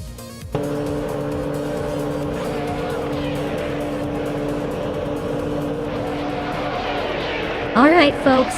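Racing cars, including a 1996 Williams FW18, roar off the start line at Daytona in a video game: a loud, steady engine drone throughout, with a sharp tire squeal near the end.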